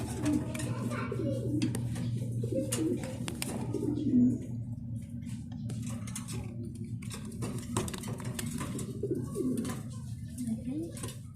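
Mundiya pigeons at a farm, including a Bulobar hen, coo in low, soft, repeated murmurs close by, with other birds and faint voices mixed into the background.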